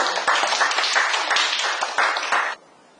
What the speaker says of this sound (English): A round of applause to the internal team